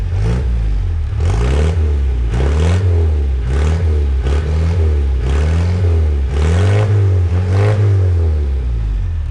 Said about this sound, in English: so I'm going to listen, see if they sound any different. Yeah, give it a rev.